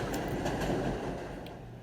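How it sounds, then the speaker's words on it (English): Two trains rumble past in quick succession, a low steady roar with faint rail clatter heard at a moderate distance, no voices. "I paused for a second while the train passed by"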